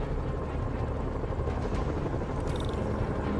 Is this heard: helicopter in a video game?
yes